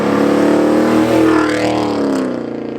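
A Mercedes C63 AMG V8 engine revs loudly and close, its deep growl climbing and falling in pitch with one rev sweep before easing off at the end.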